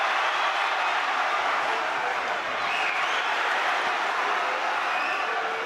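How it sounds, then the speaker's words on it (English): Sustained applause from a large crowd at a boxing match, a dense even roar of clapping that holds steady throughout, close and loud. "Every time he's been shown on the screen, the crowd's applauded."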